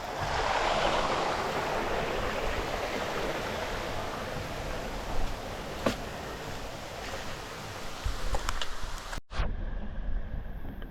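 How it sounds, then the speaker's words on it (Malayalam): Water from a forest stream on the Agasthyarkoodam trek in Kerala rushes steadily and close with a broad constant wash, and a few soft knocks sound near the end. "ആദ്യത്തെ അരുവി"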